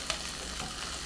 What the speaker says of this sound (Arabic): هسه حنقلب فيه لحد ما شويه يستوي